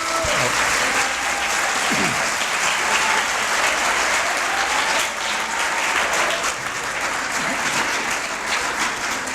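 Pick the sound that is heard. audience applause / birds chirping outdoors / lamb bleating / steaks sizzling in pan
audience applause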